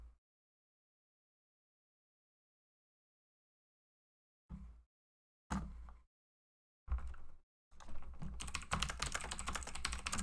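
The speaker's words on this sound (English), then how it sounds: "I'm sorry you guys hear the clicky clackety of my keyboard." A clicky computer keyboard is typed on during a game stream, with short bursts of loud, close keystrokes separated by silences, then a denser run of rapid clacking at the end.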